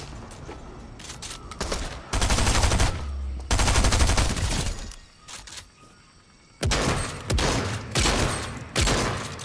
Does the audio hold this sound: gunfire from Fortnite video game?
yes